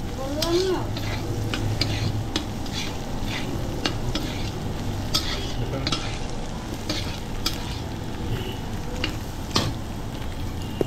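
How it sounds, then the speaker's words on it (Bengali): Egg and vegetables being stirred and fried together in a pan for Chinese-style mixed fried rice, a steady close sizzle with repeated scraping and stirring clicks throughout, no talk. "এবার আমি সবকটা একবারে আবার একটু মিশিয়ে নেব"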